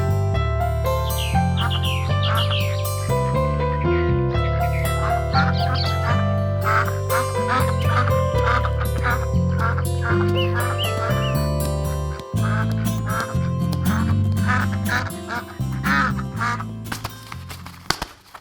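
A cartoon goose honks repeatedly in an animated moral tale about the goose that laid golden eggs, the quacking calls scattered over steady, loud background music throughout.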